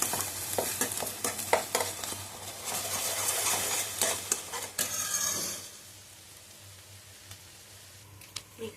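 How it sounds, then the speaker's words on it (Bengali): Loud, steady sizzling of scrambled egg frying on a high gas flame with scraping and stirring clatter, then settling to a quieter sizzle in the last few seconds. "গ্যাসটা জোরে দিয়ে দিয়েছি, এমনভাবে ভাজা হোক।"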